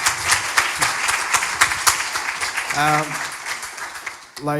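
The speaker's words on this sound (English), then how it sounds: "Yeah, round of applause, I reckon." Applause from a youth forum audience after a panel answer at a social inclusion event; a scattered, moderately loud burst of clapping, with voices breaking in near the middle and at the end.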